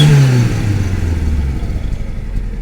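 A Hyundai i20 with a turbo whistle fitted to its exhaust revs, giving a falling whine over a loud, rough engine drone that settles into a rumbling idle.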